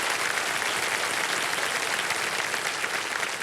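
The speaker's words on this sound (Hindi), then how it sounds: "और ताली बज जाए एक बार इनके लिए।" Studio audience on a televised quiz show applauding a contestant, a continuous even patter of many hands, moderately loud and unbroken for the whole stretch.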